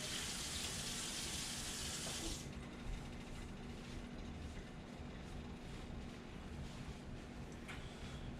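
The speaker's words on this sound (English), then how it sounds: "Let me wash my hands again." A kitchen sink tap runs strongly for hand washing, a bright rush of water for about two seconds before cutting off. A quieter background of faint clinks and room noise follows.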